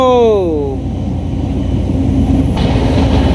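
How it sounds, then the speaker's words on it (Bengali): A passing train makes a loud, steady rumble throughout. A brief descending tone is heard at the start. "ট্রেন চলেছে ট্রেন চলেছে ট্রেনের বাড়ি কই ঠ্যান ঠ্যানা ট্যান ট্যান ট্রেন চলে যাইতেছে"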